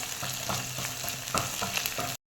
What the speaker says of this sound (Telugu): ఒక 1/2 టేబుల్ స్పూన్ అల్లం పేస్ట్ అనేది వేసుకొని పచ్చి వాసన పోయేంత వరకు కలుపుకుందాం